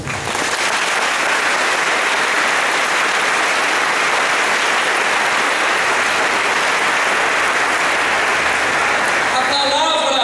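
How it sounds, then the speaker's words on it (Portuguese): A church congregation applauds at a formation gathering, with loud, sustained clapping that fills the whole stretch and fades near the end. "Pode aplaudir esse irmão."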